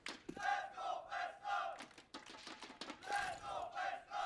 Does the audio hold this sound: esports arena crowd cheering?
yes